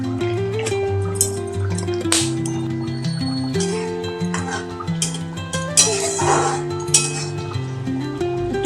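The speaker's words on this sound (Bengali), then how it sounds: "একটু নেড়ে চেড়ে দিলাম, ব্যাস 2 মিনিটের মতো ফুটলেই আমি নামিয়ে দেব।" A utensil stirs hilsa fish curry in a pan, giving repeated clinks and scrapes against the metal over a soft bubbling, close up, with a sustained musical tone running underneath.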